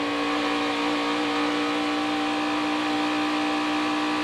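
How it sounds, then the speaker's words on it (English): NASCAR Cup race cars with 550-horsepower engines at Fontana's Auto Club Speedway roar steadily and loudly at full throttle, a continuous engine drone with no voices over it. "And Mike, these engines they're 550 horsepower. They don't have a tremendous amount of power like these guys are used to. You got to stay in the throttle."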